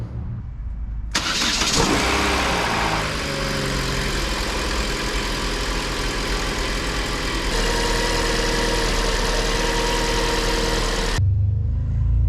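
A Chevy Sonic engine cranks briefly, catches and starts after the ignition coil is plugged in, then settles into a steady idle that runs on loudly, close by.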